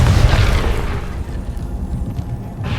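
Confringo spell explosion in the video game Hogwarts Legacy: a single loud, close boom with a heavy low-end burst at the start, then a rumbling decay that fades over a couple of seconds.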